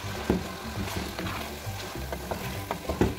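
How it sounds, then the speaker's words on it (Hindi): A kilogram of chicken fries with ginger garlic paste, giving a steady close sizzle broken by scraping stirs and soft knocks of the spoon in the pan. "इसके बाद मैं चिकन को जिंजर गार्लिक पेस्ट के साथ अच्छे से फ्राई कर लूँगी"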